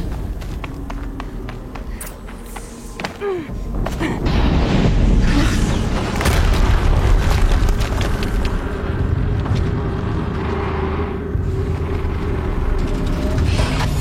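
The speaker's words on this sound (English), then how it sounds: "Another explosion." A deep explosion rolls out after a quieter opening, becoming a sustained, loud broadband rumble with a heavy low boom that lingers and slowly fades. Another blast follows within the same roar.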